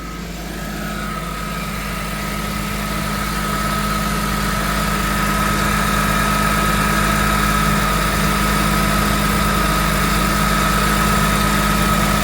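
A BMW E46 M3 engine idles steadily at close range, with a persistent whine from its power steering pump ringing over the low engine drone throughout, no talk.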